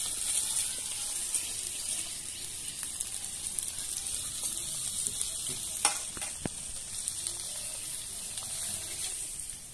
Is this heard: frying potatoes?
yes